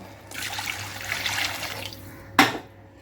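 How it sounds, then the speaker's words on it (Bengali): Water poured from a vessel into a pot of Bengali fish curry with potatoes and spices, a steady splashing pour for about two seconds, close and fairly loud, ending in a short sharp clink. "এবারে আমি জল দিয়ে দেব"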